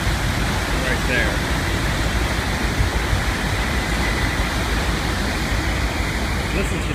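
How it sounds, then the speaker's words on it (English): A ferry's Volvo marine engine hums steadily and densely without pause, a broad rumbling wash of noise that stays loud and even throughout. "Listen to that engine hum."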